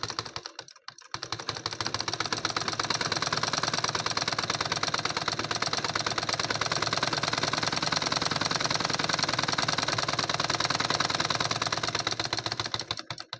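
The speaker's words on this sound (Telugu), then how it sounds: "అయితే షోల్డర్ దగ్గర అయితే ఇప్పుడు కుడదాం" A sewing machine runs steadily for several seconds, stitching a cotton-lined blouse at the shoulder, its rapid needle chatter loud and close after a brief start, with no talking.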